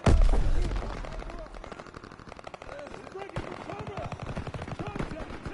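Rapid machine-gun fire from the Call of Duty WWII video game rattles on in dense bursts, loud and close, with a heavy blast at the start and combat noise throughout.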